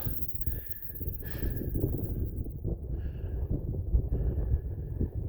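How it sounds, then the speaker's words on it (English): Gusty, cold wind on a mountain ridgeline near Wheeler Peak roars across the microphone in low, continuous buffeting, rising and falling without a break; no voices are heard. "it's windy up here and cold"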